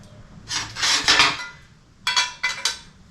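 Scratchy scraping strokes of a marker or scribe drawn along a speed square on metal while building a transmission crossmember for a Willys, one longer stroke followed by two shorter bursts, close and clear with no voices.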